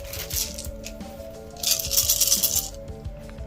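Plastic dice tumble and clatter across a board game surface in quick, light rattling bursts, one sharper cluster of clicks in the middle, close and fairly quiet.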